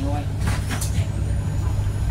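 Interior of a moving bus, a steady low engine rumble and road noise with a brief hiss like an air brake, while people talk nearby.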